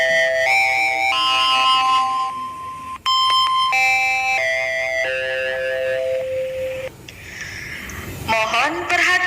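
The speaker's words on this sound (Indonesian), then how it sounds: "bel tanda masuk telah berbunyi" A school bell signalling the start of class plays as a loud electronic chime, a run of stepped melodic tones broken by a short pause, with a voice rising near the end.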